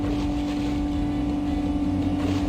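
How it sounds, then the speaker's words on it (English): Game car engines in Hot Wheels: Track Attack on the Nintendo DS drone loudly and continuously, a steady buzzing hum with a strong low tone and no talk. "Yeah, the engines are so much louder than everything else."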